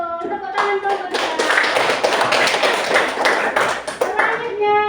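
Classroom clapping for a group of fifth-grade pupils at an Indonesian primary school, a burst of many small hands lasting several seconds, close and fairly loud, with children's voices mixed in.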